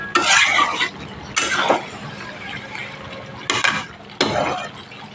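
Chicken curry with gondhoraj lemon leaves being stirred in a pot, a ladle scraping and clattering against the metal in four distinct bursts, loud and close, with quieter gaps between.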